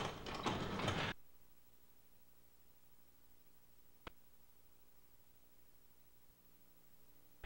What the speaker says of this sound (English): manually lower the door to the full closed position, making sure you have complete freedom of movement